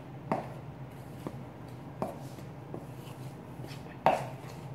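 A spoon or utensil knocks against a bowl with a few separate taps while dry ingredients with ground cinnamon are mixed. The taps are soft and sound close, with quiet stirring between them.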